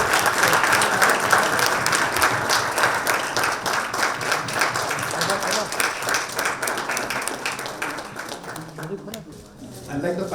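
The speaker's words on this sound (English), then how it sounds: "Please give a round of applause" Sustained audience applause at an investment panel event in India, dense steady clapping from a crowd that carries on throughout and thins slightly near the end.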